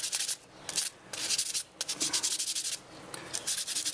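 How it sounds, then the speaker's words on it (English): Buffing scratches off the key fob of a 2004 Volvo XC90, heard as close, brisk rubbing strokes in short rhythmic bursts separated by brief pauses, with no one speaking. "just kind of buff off these high marks, any of the"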